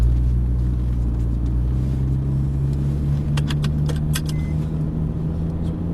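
A Porsche 911 pulling slowly away onto the Brands Hatch circuit, a steady low engine rumble heard from close by, with a few light jangling clicks partway through.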